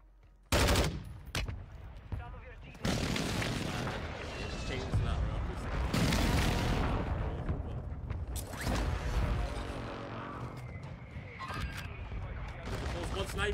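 Air strike explosions in the Farlight 84 video game: loud booming blasts and crackling bursts follow one another over about thirteen seconds, mixed with clattering gunfire-like noise and a voice talking in the background.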